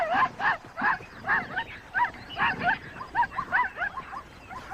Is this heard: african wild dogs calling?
yes